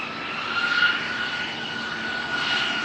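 Jet airliner departing northward from runway 36L at Amsterdam Schiphol Airport, a steady distant engine roar with a broad hiss and faint whine, sustained and even throughout, with no voices.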